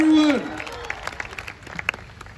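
A crowd at a motivational business meeting breaks into brief applause as a voice trails off, the clapping thinning into scattered claps near the end.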